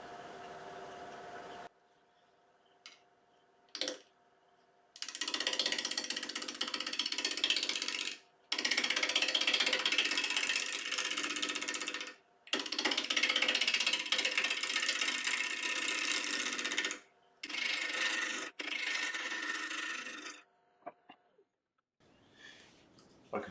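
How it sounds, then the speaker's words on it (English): A wood lathe spins a mulberry bowl blank at 900 RPM as a 3/8 inch ball gouge cuts it, with harsh, close cutting noise in several multi-second bursts separated by quiet gaps. "So I'm going to start off with a 3/8 inch ball gouge."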